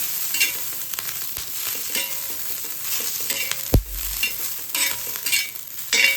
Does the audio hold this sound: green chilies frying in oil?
yes